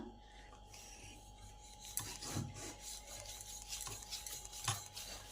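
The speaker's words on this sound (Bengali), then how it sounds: "এবার একটা লেচি নিয়ে বেলে নেব।" A rolling pin rasps and rubs over a lightly floured dough ball being rolled into a round for a vegetable-filled snack, a soft repeated scraping with a few sharper knocks near the surface.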